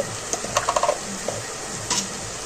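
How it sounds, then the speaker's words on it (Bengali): Snake gourd and shrimp sizzle in a pan while a spatula stirs them in a quick burst of scraping strokes, then a few quieter stirs later, with frying hiss underneath throughout. "ভালো করে নাড়াচাড়া দিয়ে মিলিয়ে নেবো নুনটা"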